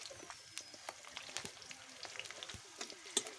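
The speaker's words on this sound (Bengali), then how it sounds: "দিয়ে দিচ্ছি কাঁচা পাকা লঙ্কা, দিয়ে একটু ভালো করে ভেজে নেব।" Green and red chillies frying in a pan give off a soft, steady crackling sizzle with scattered sharp pops and small clicks. The sound is fairly quiet and close, with no talk over it.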